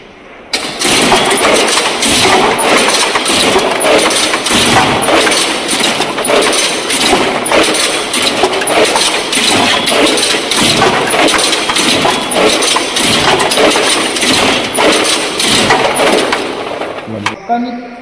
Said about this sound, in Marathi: हा बॉईल झाला काजू इथं आला मशीनमध्ये